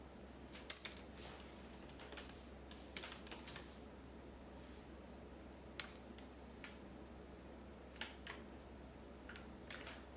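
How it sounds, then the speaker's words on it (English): Keys clatter on a laptop keyboard in uneven bursts of quick taps, with short pauses between, close and fairly quiet over a low steady hum. "I'm typing it in right now because my laptop's in front of me."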